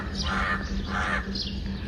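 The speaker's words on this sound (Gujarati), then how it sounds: "હવારનો કાગડો બોલે જેમાં બેઠો તાર ઉપર" A crow perched on a wire in a Gujarati village caws several times in close succession, loud and harsh, over a steady low hum in the background.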